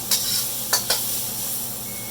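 Chicken fried rice sizzles steadily in a hot pan while being stir-fried, a constant close hiss broken by two or three soft scraping stirs.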